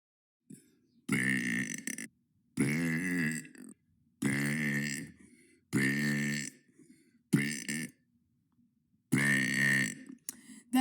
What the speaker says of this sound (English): That's day 21 of burping for 100 days.